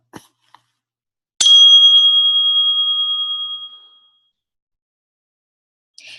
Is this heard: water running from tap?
no